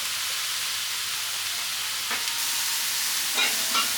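Mushrooms stir-frying in a pan over high heat, a steady loud sizzle and hiss running throughout, with a few faint scraping stirs near the end and no talking.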